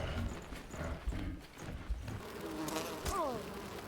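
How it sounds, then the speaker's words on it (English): Insects buzzing in the survival video game Enshrouded, a droning hum under footsteps-like clatter and game effects, with a brief rising tone near the end. "Oh my goodness, bees."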